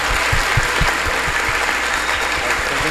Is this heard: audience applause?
yes